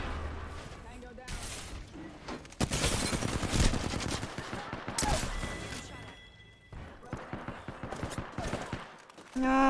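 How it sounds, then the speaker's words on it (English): Bursts of rapid video-game gunfire crackle through a busy shooter match, with dense automatic volleys and scattered single shots close up, mixed with game effects and a player talking over the action. "Why is everyone in the world shooting at me?"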